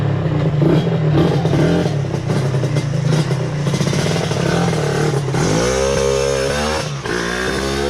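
Yamaha TZR two-stroke motorcycle with a newly fitted carburetor, revving loudly and continuously up close, its buzzing pitch climbing sharply in a final rise.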